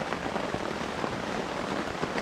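Heavy rain pouring down steadily during a solo canoe camping trip, a dense, even hiss of drops drumming on surfaces with no letup, close and constant, no voices.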